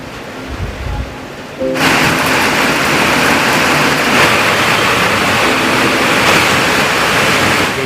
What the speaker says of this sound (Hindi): बाहर तेज वाली बारिश होना शुरू हो गई है।